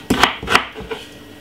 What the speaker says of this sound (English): cut up my ginger a little bit small, yeah, very small, tiny bit